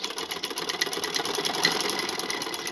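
A sewing machine stitches a quilt cover with a steady, rapid mechanical whirring and clatter, loud and close, running continuously on its own.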